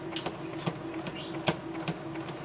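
A sewing machine set to slow stitch works on a mitten potholder, giving soft, unevenly spaced mechanical clicks and thumps over a faint motor hum, close by with no talk.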